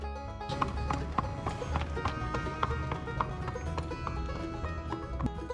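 Horse hooves clip-clopping at a steady walking rhythm while a rider sits aboard at an outdoor music park, close and continuous with a brief whinny, under a busy background of outdoor noise.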